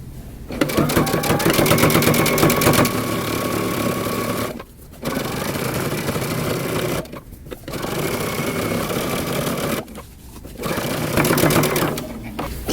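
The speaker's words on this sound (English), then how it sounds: "we're going to stitch really close to the edge, only on the facing" A sewing machine understitches a long coat facing close to the edge in loud, fast runs of stitching, broken by several short pauses where the machine stops.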